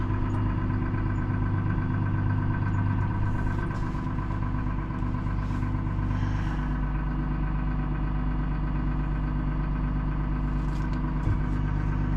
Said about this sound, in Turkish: soğuk olduğundan dolayı biraz vuruyor traktöre